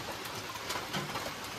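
Rain falls steadily on a farm, a dense even patter with scattered louder drops, moderately loud and continuous with no voices.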